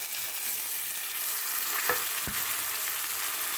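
Cluster beans, boiled for ten minutes beforehand, fry in a pan with a steady, even hiss, broken by a couple of brief stirring clinks near the middle.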